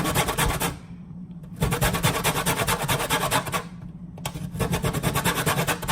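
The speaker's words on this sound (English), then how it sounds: "when you're zesting, you don't want to get past the white part" Lemon being zested on a grater in a home kitchen while making fried tilapia with scallops, giving repeated close scratchy rasping strokes in two long bursts with short pauses between, no talking.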